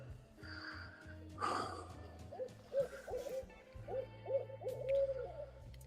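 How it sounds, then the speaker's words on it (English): An owl hoots at night in a repeated series of short, soft hoots, heard at a moderate distance amid breathing and faint low hum, with brief human sounds early on. "Now a damn fucking owl."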